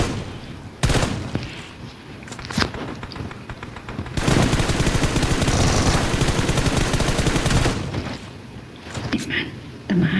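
Rapid automatic gunfire from the PUBG Mobile shooter game crackles in bursts, with scattered single shots and a long sustained volley in the middle, while players talk over the action.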